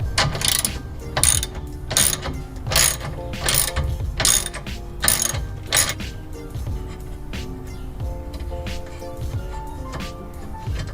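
Rapid ratchet clicks in quick bursts as a screw is backed out on the rear diffuser of a 2014 Subaru WRX, close and crisp, then settling into quieter metallic handling toward the end.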